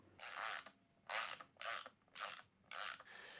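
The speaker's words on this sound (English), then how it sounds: "use our 9-1 pin tool with our ratchet again to unthread the top cap" Five sharp ratcheting bursts, evenly spaced and close, as a ratchet turns a 9-1 pin tool to unthread the top cap of a Nine One V2 suspension fork.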